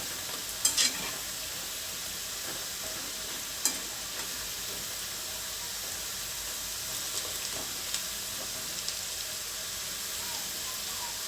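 Bitter gourd pakoda deep-frying in hot oil gives a steady, dense sizzle throughout, close and even, with a few sharp pops and crackles breaking through.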